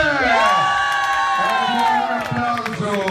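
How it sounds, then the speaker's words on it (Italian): Outdoor spectators at a disc dog distance competition in Piverone, Italy, cheer and shout loudly and continuously, a dense crowd roar with high whoops and children's voices. "un applauso."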